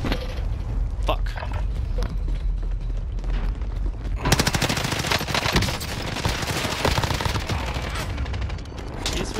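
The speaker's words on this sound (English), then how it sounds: "He's really got a 100 round mag and grenade launcher on the bottom of that Kilo." Rapid automatic bursts of machine gun fire from a Kilo rifle fitted with a 100-round magazine in Call of Duty: Warzone, loud and dense, intensifying midway into sustained heavy firing with blasts mixed in, while a player talks over the action.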